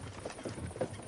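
Horses clip-clop in the Kingdom Come Deliverance 2 video game, a quick run of soft, muffled hoofbeats lasting about a second, fairly faint and set within a low bed of game ambience.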